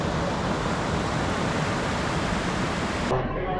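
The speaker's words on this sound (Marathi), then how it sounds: "प्रचंड पाणी वाहतेले आणि तो धबधबा आहे" A waterfall with a large volume of water pouring down makes a loud, continuous rushing roar that fills the sound evenly until it cuts off abruptly near the end.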